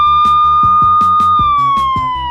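A cartoon police car siren wails in a steady high tone over a chase, with a rhythmic beat of thumps underneath, loud and close, the pitch sliding slightly lower toward the end.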